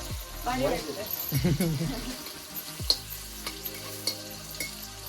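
Okra curry with garlic, cumin, tomato and plenty of chilli sizzles and is stirred in a pan over a wood-fired clay stove in an old mud house, soft frying hiss with scraping stirs beneath a voice speaking.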